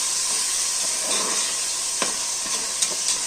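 Tomato pieces frying and being stirred in a pan for vegetable rice, a steady close sizzle and hiss with a few sharp scraping clicks of the spoon, no talking.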